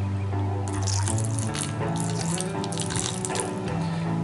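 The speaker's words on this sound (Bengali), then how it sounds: "এখানে একটু জল লাগবে, তাই আমি জল দিচ্ছি।" Water splashes steadily into a cooking pan as a Gobi 65 cauliflower fry mixture is prepared, a continuous trickling pour heard close up and fairly loud over background music.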